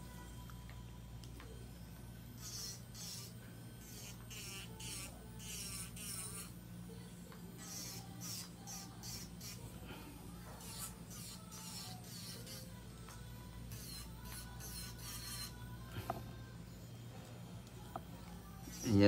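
An electric nail drill with a sharp bit files gel nails during a pink and white ombre manicure, producing a faint, steady high whine with scratchy filing bursts and no speech.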